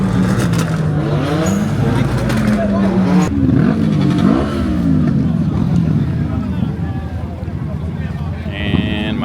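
Cars revving at a car meet with Corvettes and an Audi R8, loud rising and falling engine sweeps close by, buffeted by wind noise, with people talking over them.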